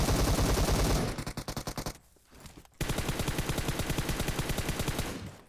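Automatic weapon spraying in PUBG Mobile: loud, rapid bursts of gunfire, a brief pause with a few scattered shots, then a long sustained stream of shots, close and dominant.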